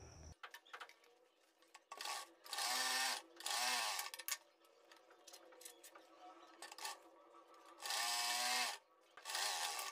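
A sewing machine stitches matching-fabric piping onto a glass neck blouse design, running in several loud, whirring bursts of varying length with quieter handling noise between them.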